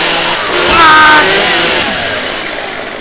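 A chainsaw in the video game 7 Days to Die revs up loud and close, its motor whining higher then settling into a steady buzzing drone.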